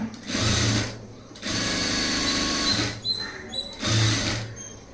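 A sewing machine stitches a blouse seam in short bursts, three runs of fast whirring separated by brief pauses, close and clear with no talking.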